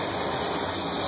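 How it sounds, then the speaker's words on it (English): Bath water pouring steadily from a tap into a tub, a continuous broadband gush filling the whole moment with no talk over it. "Look at the bath's running."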